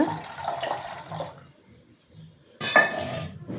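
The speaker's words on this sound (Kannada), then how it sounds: "ಅದಕ್ಕೆ ಒಂದು ಗ್ಲಾಸ್ ನೀರು ಹಾಕೊಳ್ತಾ ಇದ್ದೀನಿ ಇವಾಗ" Water splashes and trickles into a glass in two bursts separated by a short quiet gap, close by, with a light clink of glass.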